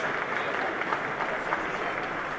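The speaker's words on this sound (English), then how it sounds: "There's a warm ripple of applause" Steady applause from a football crowd at an under-21 match as an injured Charlton teenager is stretchered off, a continuous ripple of clapping heard from a distance at moderate level.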